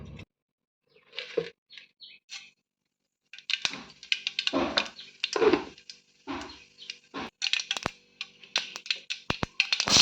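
Mustard seeds crackle and pop in hot oil while making Tamil chickpea sundal, starting with a few scattered sharp pops and building into a dense, irregular spatter of close crackles.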